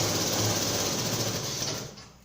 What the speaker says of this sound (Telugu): తాడు ఒడ్డుకి కుట్టు పెట్టండి.